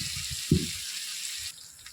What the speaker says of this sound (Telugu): ఈ అల్లం వెల్లుల్లి పేస్ట్ బాగా వేగాలి.